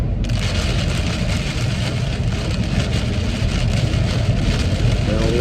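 Heavy rain pounds a car driving at night through a thunderstorm, a loud continuous roar of water on the body and glass mixed with road and engine noise, steady throughout.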